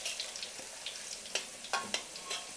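Potatoes fry in hot oil for a chicken curry, a continuous soft sizzle with small crackles and pops scattered throughout, close and fairly quiet, with no voices.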